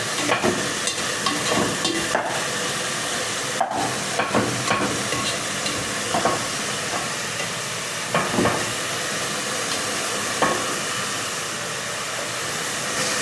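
Spices frying in a pan for bean soup (loviyali sho'rva), a steady close hiss and crackle of sizzling with scattered sharp pops and spatters throughout, no talking.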